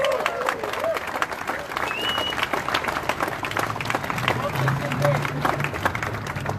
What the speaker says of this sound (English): Round of applause for you girls, round of applause for you guys.